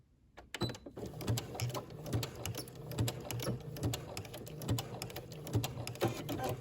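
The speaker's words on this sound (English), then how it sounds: "I'm going to sew up to the first dot. And then I'm going to back stitch" A sewing machine stitches and backstitches a maxi dress seam, giving a close, steady rhythmic needle clatter that runs almost without a break.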